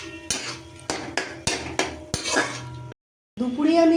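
A spoon stirs chana masala with yogurt in a metal pan. It knocks and scrapes in a steady rhythm of clinks, goes quiet for a moment, and then a voice starts talking.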